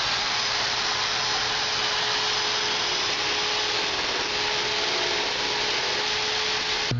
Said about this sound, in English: we'll turn the drill on and make some defining cuts